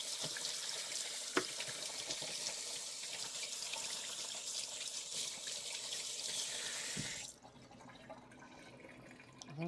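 Tap water runs steadily as sticky molasses is rinsed off in a kitchen sink during holiday baking, a loud continuous hiss with a few splashes, then the flow cuts off near the end leaving a quieter trickle.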